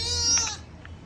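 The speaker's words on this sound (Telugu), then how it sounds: "మేకలు ఉంటాయి ఇక్కడ ఎదురుగా" Goats bleat close by in a rural spot, a loud wavering call that fades into quieter bleats, with no talking.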